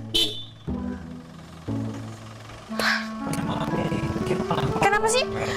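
A car horn sounds two or three steady honks in a row. People then talk loudly and excitedly over a busy outdoor background.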